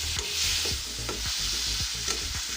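Turmeric and chopped tomatoes sizzle and fry in a pan, with repeated stirring scrapes and clatters over a steady hiss, close and fairly loud, no talk.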